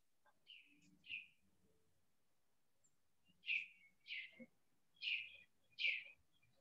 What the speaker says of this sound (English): Somebody else have a nice bird in the background.